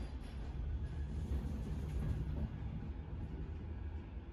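Manchester tram heading towards Timperley, a faint, steady low rumble of rolling wheels and motor, continuous and fairly distant, with no talk.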